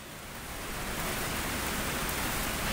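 Steady heavy rain falls, a dense, loud, even hiss that swells slightly and then holds constant with no voices over it.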